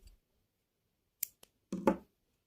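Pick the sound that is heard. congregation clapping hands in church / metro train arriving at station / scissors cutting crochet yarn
scissors cutting crochet yarn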